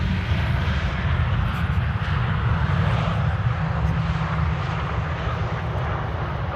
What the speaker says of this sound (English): Iberia arriving from Madrid, flight 731. And that's an A320.